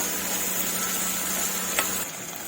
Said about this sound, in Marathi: तो पण आपण असं चांगला असा परतून घ्यायचा आहे व्यवस्थित असा तेलामध्ये